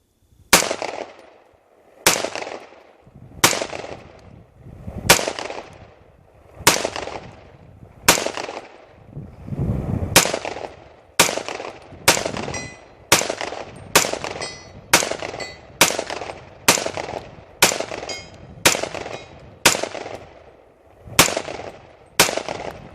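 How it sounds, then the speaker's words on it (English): A .300 Blackout rifle fed from a Magpul magazine fires about twenty loud, evenly spaced single shots outdoors, each crack ringing out briefly before the next, with no talking. "Doesn't matter if I hit the target or not, I'm just gonna make sure it cycles."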